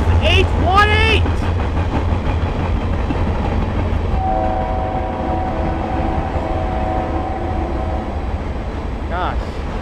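A Norfolk Southern freight train led by locomotives 6790 and 9306 rumbles past at Clyde, Pennsylvania, with a steady loud roll of wheels and cars and a horn blast near the start, sustained tones following.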